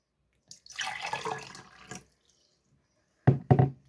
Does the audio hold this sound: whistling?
no